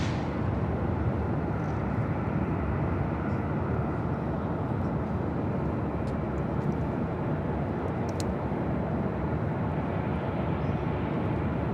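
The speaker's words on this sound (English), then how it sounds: "7005 taking off to Guadalajara on a 36-year-old 767-200 converted freighter" A 36-year-old Boeing 767-200 converted freighter, Aero Union 7005, takes off from LAX, its engines a steady, broad, loud roar that holds throughout.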